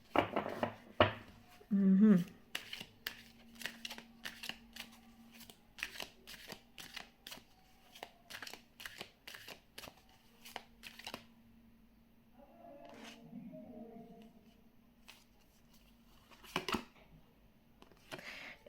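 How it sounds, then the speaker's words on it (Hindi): A tarot card deck shuffled by hand, crisp riffling bursts and repeated card flicks scattered across the span, close and fairly quiet, with a person talking intermittently between them. "इसको बस 2 बारी शफल करना रहेगा, उससे ज़्यादा नहीं।"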